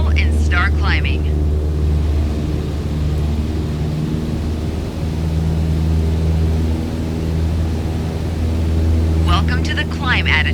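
A Cessna 152 engine at full throttle drones steadily as the plane climbs in Microsoft Flight Simulator 2020, with a constant harmonic hum throughout and a voice talking over it near the start and end.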